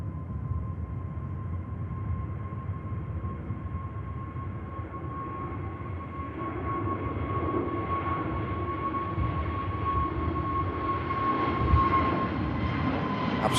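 A British Airways plane on flight 1365 to Heathrow takes off from Manchester Airport, its engines a steady rumble with a sustained whine that swells gradually louder as it climbs away, heard from a distance with no talk.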